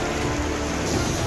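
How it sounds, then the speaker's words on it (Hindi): Heavy rain pours steadily as Cyclone Remal strikes West Bengal, a dense, loud, continuous hiss of downpour with storm wind and no voices. "बंगाल से बांग्लादेश तक भारी बारिश और तेज हवाओं का दौर जारी है।"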